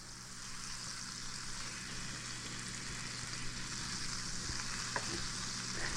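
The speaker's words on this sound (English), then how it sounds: "we're going to start with our cast iron pan, and then I'm going to put some butter into our pan" Butter sizzles steadily in a cast iron pan, a constant close frying hiss with faint crackles and a couple of small pops near the end.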